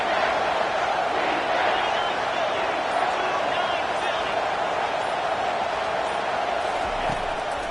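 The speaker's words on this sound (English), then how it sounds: "Third down, and this crowd will blow out a vocal cord to help this defense." A football stadium crowd roars on third down during a game against WVU, a dense and continuous wash of cheering that stays loud throughout, with an announcer talking over it.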